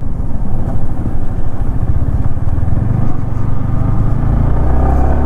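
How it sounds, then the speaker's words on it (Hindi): A Yamaha R15 V4 motorcycle shifts gears without the clutch using its quick-shifter, its engine droning loud and close with brief rev dips at each change and no talk over it. "सो अभी हम क्लच लेस गियर शिफ्टिंग कर सकते हैं।"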